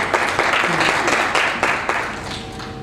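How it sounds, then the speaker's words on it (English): Audience applause at a ceremony honouring a doctor, a short burst of steady clapping with a voice speaking over it, fading toward the end. "A round of applause."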